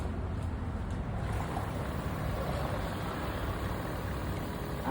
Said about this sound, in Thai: สตาร์ทเครื่องยนต์แล้วก็ ลองให้มันทำงานดูที่ว่าผลออกมาเป็นยังไง